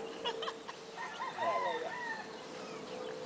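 Chickens clucking and calling close by at a family house, with a steady hum underneath and no voices.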